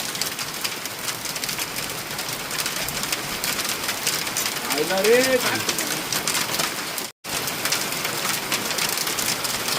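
Unseasonal hailstorm rain in Badlapur makes a steady, dense hiss and patter throughout, with a short spoken remark and a brief bird call partway through.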